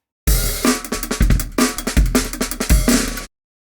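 Drum loop played back through a sampler on a MIDI track, with tweaked envelope and start point, pounds loud and close, its kicks and snappy hits repeating in a steady groove for about three seconds before cutting off.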